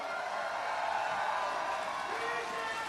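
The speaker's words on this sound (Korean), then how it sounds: "네, 큰 박수 부탁드립니다." Crowd applauding at an outdoor election campaign rally in Seomyeon, Busan, a dense, steady wash of clapping and cheering that fills the whole stretch at an even level.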